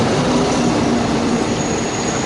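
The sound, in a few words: Nam Tok train approaching Hellfire Pass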